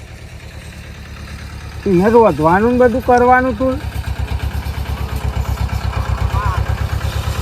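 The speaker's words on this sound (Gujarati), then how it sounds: "હા અવાજ તો આવે ટ્રેક્ટર નું લાગે" A tractor engine putters at idle in a steady, close, loud pulsing beat, with a person talking over it partway through.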